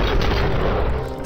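Gunfire erupts in the video game RoboCop: Rogue City as a dense, loud, booming barrage of shots blurring into a continuous roar for over a second, with no gaps between bursts.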